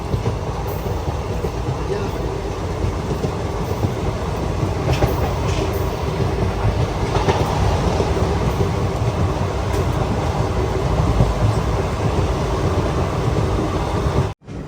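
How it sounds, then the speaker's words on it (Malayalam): A Garib Rath Express train pulls into Thrissur railway station, with a loud, continuous rumble of wheels on rails and faint rhythmic clatter, recorded close up from on board, without a break until an abrupt cutoff at the end. "തൃശ്ശൂർ റെയിൽവേ സ്റ്റേഷനിലേക്ക് ഇതാ നമ്മുടെ ട്രെയിൻ എത്തിക്കൊണ്ടിരിക്കുകയാണ്"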